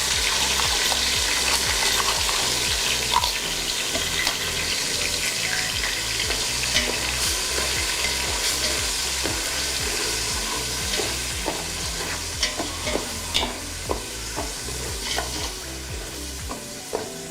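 Onion paste frying in oil for an Andhra-style mango fish curry gives a loud, continuous close sizzle. Sharper spatula scrapes and clicks against the pan grow more frequent toward the end.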